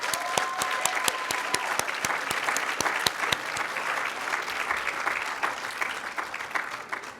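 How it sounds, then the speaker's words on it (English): Outdoor crowd applauding young steel pan players at a statue unveiling in Regent Park, steady clapping with a few sharp, close individual claps standing out in a regular rhythm over the general wash. "I wanted to start off by just giving a really amazing round of applause to the steel pan players."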